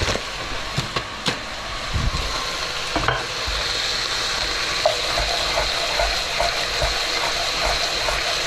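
Bacon and lardons frying in a pan, a continuous crackling sizzle with sharp scraping and tapping from stirring at the start, then settling into a steady hiss.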